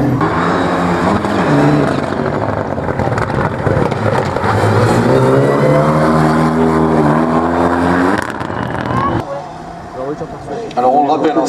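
A 400 car runs in a slalom event, a loud engine that rises and holds its pitch as it comes past close, then drops away, with a commentator talking over it throughout.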